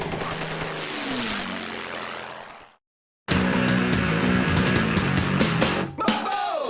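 A Dynam Tempest RC airplane with crashproofing drones loudly as its propeller spins in flight, cutting out briefly before the engine roars back at full throttle.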